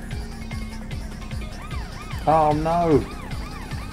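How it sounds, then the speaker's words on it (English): A police car siren in The Need for Speed on PS1 rises and warbles loudly for under a second over a rhythmic, pulsing car engine, and a voice exclaims briefly. "Damn, the police car's just ahead."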